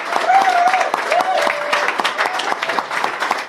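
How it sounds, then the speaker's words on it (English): A live audience at the British Interplanetary Society claps for a guest, a dense burst of applause running throughout with a whistle or cheer sliding over it at the start. "please, big round of applause for Alicia from Mars Nation."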